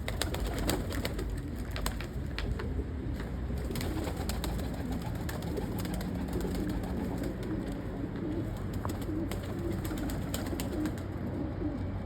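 Domestic Turkish pigeons, including a grey-rose-winged white-headed bird, coo steadily throughout amid a dense, continuous flock murmur, with soft flutters and no talking.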